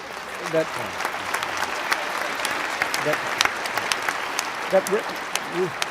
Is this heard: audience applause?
yes